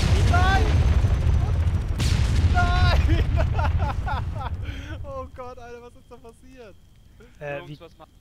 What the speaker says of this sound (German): Die haben mein Heli zur Explosion gebracht.